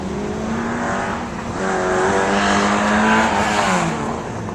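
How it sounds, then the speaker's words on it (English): A Porsche sports race car on a circuit, its engine droning loud and steady as it approaches and passes close by, pitch rising and shifting through the run. "It's Rich Davis is coming towards us in the bright yellow and green, Porsche."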